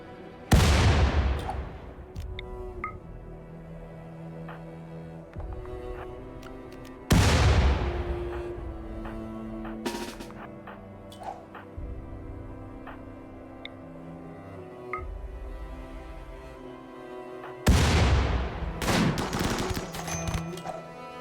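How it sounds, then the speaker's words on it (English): Mortar fire in the RimWorld video game: three loud, booming blasts spaced several seconds apart, each followed by a ringing tail, with smaller gunfire cracks and bangs scattered between them. "Mortar, death from above."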